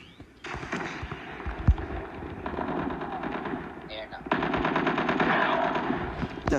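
Rapid automatic gunfire from a gun in Call of Duty Mobile, loud sustained bursts with a brief pause and then a denser, harder stream of shots, backed by mobile game ambience.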